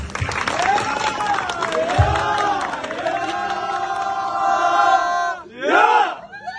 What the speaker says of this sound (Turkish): Efendim damat Bey alkış yok mu?